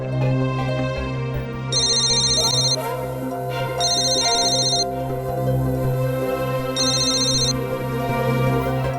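A phone ringtone chirps in three separate bursts as a driver calls Avinash. The ringing sits clearly above a steady, low background score.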